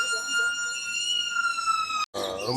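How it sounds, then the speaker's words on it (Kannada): A siren wails steadily at Mysore Zoo with a high, sustained tone, briefly cut off near the end before resuming, heard fairly close. "ಯಾಕೋ ಸೈರನ್ ಹಾಕಿದ್ರಲ್ಲ."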